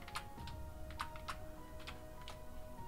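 Quick, light keystrokes on a computer keyboard enter an Excel formula, a few separate taps against a quiet, steady room hum with no voices.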